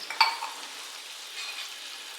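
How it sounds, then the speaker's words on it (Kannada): Pepper chicken simmering with half a cup of water in a pan gives a soft, steady bubbling hiss with one brief clink near the start, close and fairly quiet, and nobody talks. "ಅರ್ಧ ಕಪ್ ನೀರು ಹಾಕಿ ಚೆನ್ನಾಗಿ ಕುದಿಸ್ತಾ ಇದ್ದೀನಿ"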